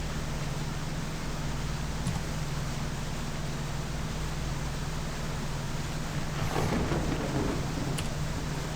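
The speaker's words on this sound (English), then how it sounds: "Granted, it is raining right now." Steady heavy rain in the fishing video game Deadliest Catch, a constant loud hiss with a low rumble underneath and a brief swell of noise near the end, no voices.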